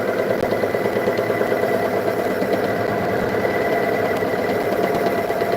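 A wood lathe runs on its lower belt at low RPM, giving off a steady, fairly loud motor drone with a faint rhythmic vibration and no speech.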